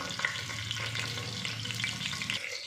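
Chopped green chillies and curry leaves fry in hot oil in a pan, giving a steady, close sizzle with crackling pops and some stirring and scraping throughout.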